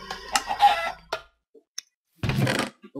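Minecraft chicken clucking and squawking in short close bursts, with a few faint clicks and a pause between them.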